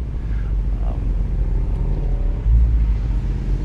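Porsche 981 Spyder's 3.8-liter flat-six sends out a steady, deep exhaust rumble with no voices over it, and the note thickens and grows louder near the end.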